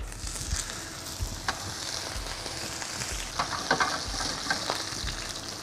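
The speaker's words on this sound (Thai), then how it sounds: "ปลาลงทอดครับ" Salted and peppered snow fish sizzles in hot oil in a pan over lowered heat, a steady, close frying hiss with a few sharper crackles and pops.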